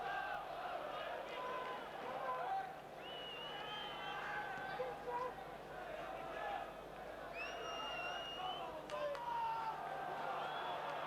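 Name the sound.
football crowd at Leeds United v Middlesbrough match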